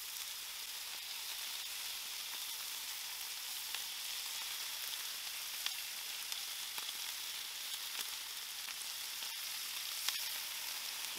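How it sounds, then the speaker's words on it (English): Bacon sizzling on a 28-inch Blackstone griddle, a constant fine crackling hiss with scattered sharp fat pops, quiet and alone without voices. "I'm gonna cook something fatty like bacon."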